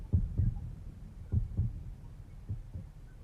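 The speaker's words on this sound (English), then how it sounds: "Takuya's heart is beating within me." Heartbeat sound effect in the video game 428: Shibuya Scramble: slow, steady lub-dub thumps, low and muffled, repeating about three times, fairly prominent over a quiet background.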